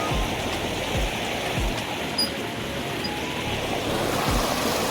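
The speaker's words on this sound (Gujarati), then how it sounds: "તો આ છે આપણા બોરનું પાણી." Water from a farm borewell pours in a full, steady rush into a field in rural Gujarat, a loud close roar of splashing flow with some wind buffeting and no speech.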